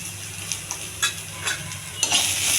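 Onions fry with a steady sizzle in a pan while a utensil stirs and scrapes through them in several short bursts, close and fairly loud.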